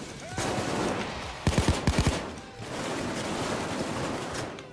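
A short burst of several rapid gunshots in the video game Payday 2 cuts through a steady background roar, a quick volley of sharp cracks, then the din carries on.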